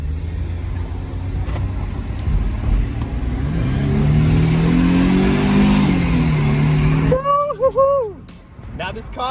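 A Mercedes coupe's V6 engine with factory AMG exhaust revs, a mid-pitched engine note that swells and rises over several seconds then drops off, close, followed by a person talking.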